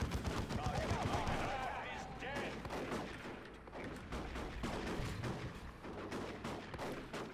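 Rapid shotgun blasts and battle gunfire from Dawn of War 2: Retribution pile up in a dense, continuous stream of sharp cracks, running under steady talk throughout.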